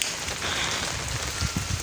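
Heavy rain pours steadily onto plants and a climbing vine, a dense, close hiss with scattered heavier drops spattering near the end.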